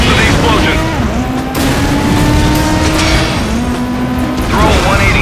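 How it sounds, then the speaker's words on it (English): An explosion bursts in the Stuntman Ignition racing video game as a stunt car drives close by, a loud blast with engine roar and a whining tone sustained over the few seconds. "Pass close to the explosion."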